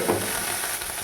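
Onion, tomato and green chilli sizzle in hot oil for sago upma, a steady, close, even hiss lasting about a second, with no talk.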